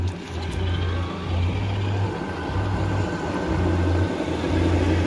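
A radio control truck drives around a parking lot in a park, its motor giving a steady low hum that pulses in rhythmic bursts as the throttle rises and falls, close and fairly loud with no talk.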